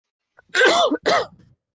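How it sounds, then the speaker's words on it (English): Two harsh coughs in quick succession, close and loud, with silence before and after. "Bad cough."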